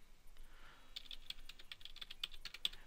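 Quick close-up keystrokes on a computer keyboard as an IP address is entered, a brisk run of light clicks lasting about two seconds in a quiet room.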